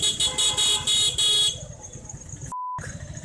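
A tempo goods vehicle on the road sounds its horn in several loud, close honks in a stuttering rhythm, followed by traffic noise and a brief electronic tone.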